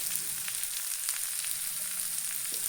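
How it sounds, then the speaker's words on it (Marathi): Stem curry of chamkura (colocasia) leaf stalks sizzles and fries in oil with red chilli powder, turmeric and salt as it is mixed, a steady close crackling hiss with faint stirring scrapes throughout. "छान घेऊयात मिक्स करून।"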